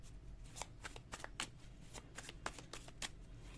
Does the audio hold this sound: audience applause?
no